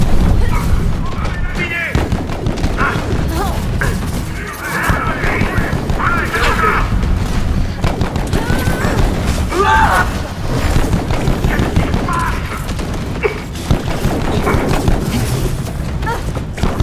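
Turret firing in the video game Split Fiction, rapid loud bursts and booming blasts layered over dense game action, with a voice talking over the shooting throughout.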